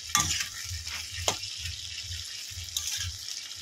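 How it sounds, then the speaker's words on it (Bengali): Okra frying over a high gas flame in a pan of oil gives a quiet, steady sizzle with soft rhythmic stirring or scraping pulses underneath, no voices present. "দেখুন ঢেঁড়সটা হালকা করে ভাজা হয়ে গেছে।"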